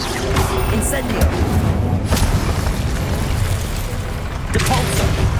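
An Incendio fire spell cast in Hogwarts Legacy, heard as loud, booming bursts of fiery noise that flare up near the start, around the middle and again near the end, sometimes with a voice underneath.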